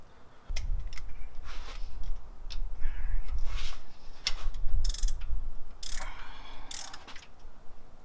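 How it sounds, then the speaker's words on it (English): A wrench loosens cylinder head bolts on an LS1 V8 engine, giving irregular bursts of ratcheting clicks and metallic turning sounds close up, separated by short pauses. "I'm going to undo the top 10 first in no order, or the top 10mm, and then I'm going to undo the bottom 10 15mm bolts in a circle"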